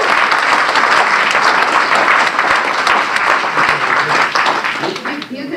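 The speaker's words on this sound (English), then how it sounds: "Well, let's give Dan a big round of applause." An audience applauds steadily and loudly for several seconds, a dense wash of clapping hands that fades slightly at the end.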